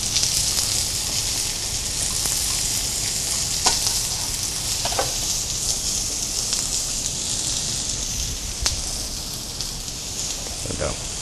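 Chicken breast frying in butter in a pan gives a steady, dense sizzle that continues without a break, close and fairly loud, with a few sharp pops and spatters.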